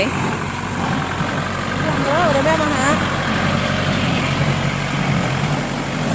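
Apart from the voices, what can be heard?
tractor engine running a straw baler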